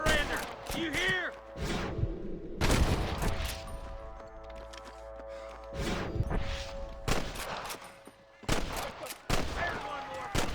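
Shootout in the Western video game Red Dead Redemption: loud, close bursts of repeated gunshots in clusters with short gaps, ringing echoes and a musical score underneath, with voices in between.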